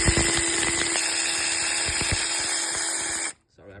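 A power tool loosening bolts on the starter of a 2010 Nissan Sentra 2.0, a close, steady high-pitched whir with rattling clicks that stops abruptly near the end.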